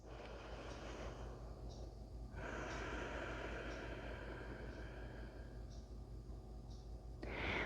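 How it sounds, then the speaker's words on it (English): Slow, deep breaths after a chair-based yoga practice, audible as a long inhale followed by an extended soft exhale with a sharper breath at the end, close and quiet. "Taking some nice deep breaths to relax after our practice."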